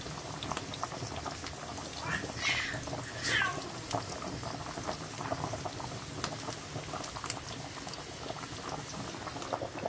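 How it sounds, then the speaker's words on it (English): Spaghetti boils in a pot with a steady bubbling, gurgling patter, close and fairly quiet throughout, with a couple of faint higher squeaks partway through. "Our spaghetti also, they're boiling, getting ready."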